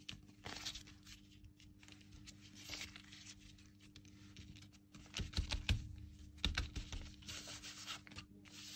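Wet paper for a paper peony is crumpled by hand, giving close, crackly scrunches in irregular bursts that grow busier toward the end, quiet overall with no speech.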